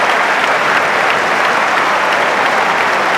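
A Wimbledon Centre Court crowd rises in thunderous applause after a love hold levels a Djokovic–Federer final at two sets all, dense sustained clapping filling the whole stretch.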